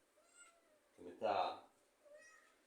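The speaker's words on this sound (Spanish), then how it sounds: "Este es el gatito de una de mis hijas." A pet kitten meows once, close and fairly loud, in a drawn-out cry with quieter mewing before and after in an otherwise calm indoor room.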